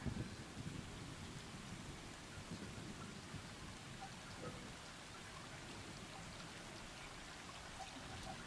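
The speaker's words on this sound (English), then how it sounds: "It's raining." Steady rain pours in the video game Stray, a dense, even hiss of falling water with low rumbling underneath, constant and fairly quiet throughout with no voices.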